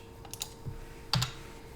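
Typing on a computer keyboard during a command-line setup on a computer. A few light key clicks, including a quick double tap, sit over a steady electrical hum, with no talking.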